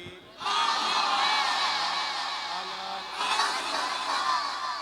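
A large crowd at a religious celebration in Ahmedabad roars back in response to a call of Naara-e-Takbeer, with loud sustained shouting that fills most of the moment, easing slightly before a second swell of voices rises again.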